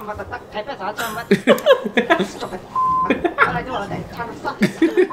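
Censor beeps from the Conker's Bad Fur Day game cut across lively talk and laughter, with one clear sustained tone standing out briefly in the middle among chuckling voices.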